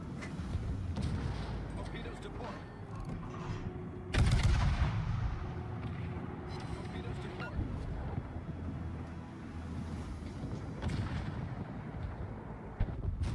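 Warship guns fire in the naval battle game World of Warships, with deep booming salvos over a constant rumbling battle bed. One heavy blast stands out early and others recur at intervals while a player talks over it.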